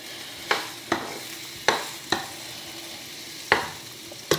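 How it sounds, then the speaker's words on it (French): Food sizzling as it begins to grill in a home kitchen, with a steady frying hiss broken by several sharp clinks of a fork or utensil against the pan at irregular intervals, close and moderately loud. "Voilà, ça commence à griller."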